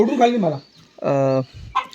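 Backyard poultry in a coop give two loud, close squawking clucks separated by a short pause, with a faint third call starting at the end.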